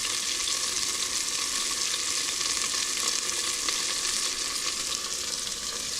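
Steak searing in a hot pan for a southwest steak bowl gives a loud, steady, close-up sizzle and crackle that continues unbroken throughout.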